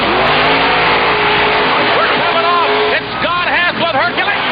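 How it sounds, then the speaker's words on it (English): The Hercules monster truck's engine roars and revs hard during a time trial run, loud and continuous with rising and falling pitch swings toward the end, with crowd and commentary noise mixed in. "Next up in the time trials, Scott Hess with Hercules."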